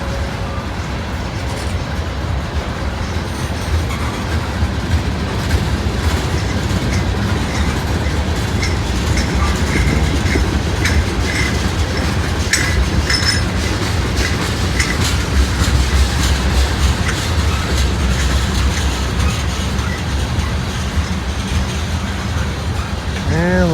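A long freight train passes close by, a loud steady rumble of rolling cars with clattering wheels and occasional metallic squeals.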